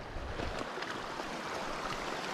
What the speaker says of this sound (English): Fording the creek here.